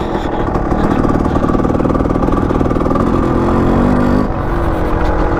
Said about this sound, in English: This kid loves to ride motorcycles.